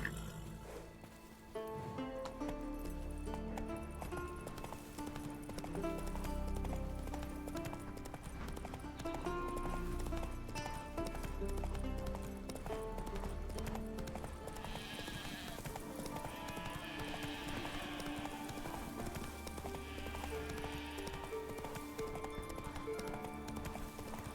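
A horse's hooves gallop in The Witcher 3 video game, a steady rhythmic clip-clop running throughout beneath game music.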